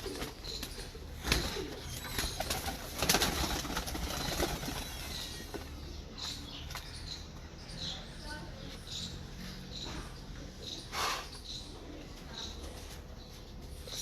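Pigeons coo softly amid fluttering wings and scattered rustling, with occasional faint voices in the background.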